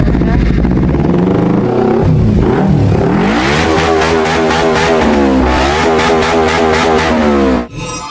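A motorcycle rides up close and loud, its engine revving steadily. The pitch climbs and dips over several seconds before cutting off abruptly.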